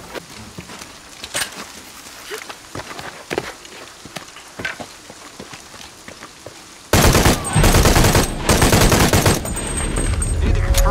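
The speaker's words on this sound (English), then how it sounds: "Need to confirm reports of more gunfire." Rapid bursts of video game gunfire crackle in sharp bursts, then a much louder, denser volley of automatic fire erupts and continues to the end, played at highest settings at 1080p on a GTX 1650 Super.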